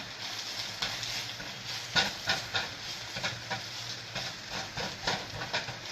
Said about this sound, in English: So this is gonna cook down, and when it gets nice and wilty is when we know it's ready